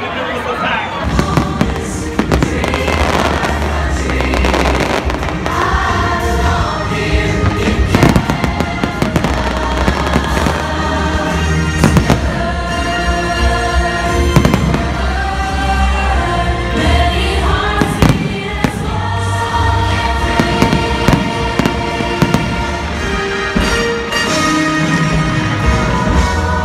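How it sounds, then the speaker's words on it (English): Loud fireworks display with continuous crackling bursts and bangs over a crowd and sustained music, heard near and dense throughout. "We got fireworks."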